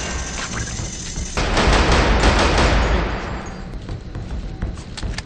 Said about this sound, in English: Step on over to the range and fire off a few shots.